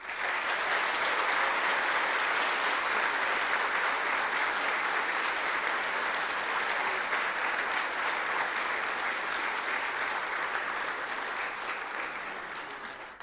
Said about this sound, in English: for the final applause of the evening, let us congratulate all of our candidates for the Scotchman and Miss Wesleyan